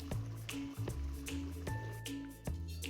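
Fish curry gravy simmering in a home kitchen pot, giving off irregular wet pops, drips and squishy bubbling at close range, with a steady low hum underneath and no talking.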